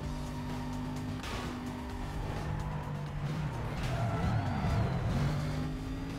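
A supercharged V8 engine from Need for Speed Most Wanted drones steadily at a low pitch, its note rising slightly and growing louder toward the end with a faint tire skid.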